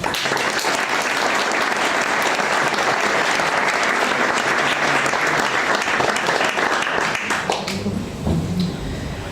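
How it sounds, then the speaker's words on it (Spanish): Sustained applause from an audience at a Spanish-language cultural lecture on indigenous peoples in the Hispanic world, dense and steady, easing slightly near the end with a few voices emerging. "un aplauso por la cultura nuestra"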